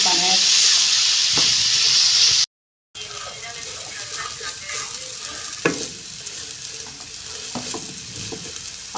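Apple halwa cooks over a medium-low flame, a close frying sizzle under stirring with occasional spatula taps; a brief dropout of silence interrupts, then softer bubbling and scraping continue.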